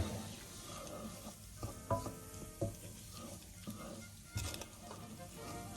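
Onion cooks gently in a pan over low heat with a quiet, steady sizzle, while a utensil scrapes and taps against the pan in irregular stirring strokes close by.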